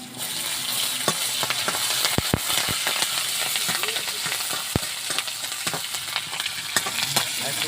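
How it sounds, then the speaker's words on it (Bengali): Slit green chillies fry in hot oil with crushed garlic, giving a continuous close sizzle dotted with scattered loud pops and crackles. "কাঁচা লঙ্কা চেরা তেলের ওপরে দিয়ে দেবো আমি।"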